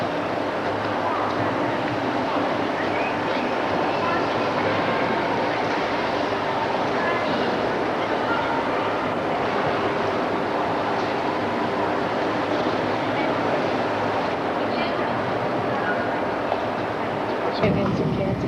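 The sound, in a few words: train station ambience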